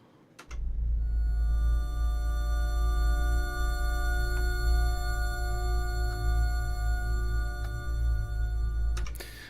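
Steady electronic tones hum together in a layered chord over a low rumbling drone, starting abruptly and cutting off near the end, with no voices.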